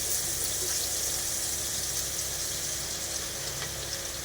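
Boondi batter poured into hot oil in a kadai, sizzling and frying in a loud, steady hiss that fills the whole stretch without pause.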